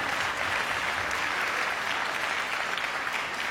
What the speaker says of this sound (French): tiens, applaudis